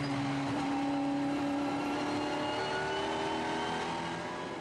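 Supercars race wheel to wheel at Circuit Park Zandvoort, with several engines droning steadily at once and changing pitch as the cars rev through the corners, heard from a distance and with no voices.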